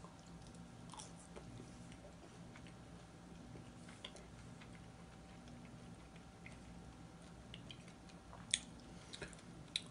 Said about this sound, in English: And let's try one of the fries.